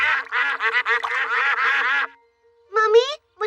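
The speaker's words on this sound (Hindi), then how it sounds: "पेपा और जॉर्ज को बतखों को खिलाना अच्छा लग रहा है।" Cartoon ducks on a pond quack in a rapid run of repeated calls, then pause and quack again in a short burst, loud and close with no talk over them.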